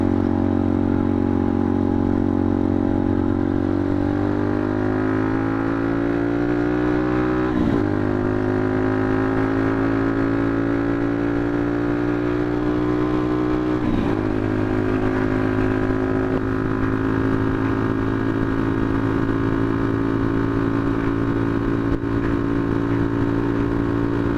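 A motorcycle fitted with a new sprocket accelerates through its gears on a winter ride, a steady engine note climbing in pitch, briefly dropping at two gear shifts and climbing again, loud and close throughout with no talk.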